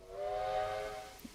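A steam locomotive's whistle sounds in the Trainz railway simulator on a Victorian Railways line near Healesville. It gives one steady, fairly faint tone lasting about a second, then cuts off, with no talk.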